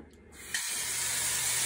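Tap water gushes into a cooking pot of potatoes, a steady broadband rush that begins abruptly after a short quiet moment and keeps running close and loud.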